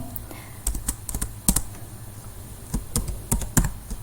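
Typing on a computer keyboard while entering Mathematica commands, a series of quick, light key clicks in short irregular clusters, fairly close and clear, with no talking.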